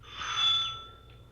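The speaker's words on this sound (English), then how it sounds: "We went up to the front door and rang the bell." A single bell rings out clearly, its bright metallic tone sustaining and slowly fading away in a quiet room.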